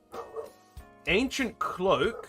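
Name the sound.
dog barking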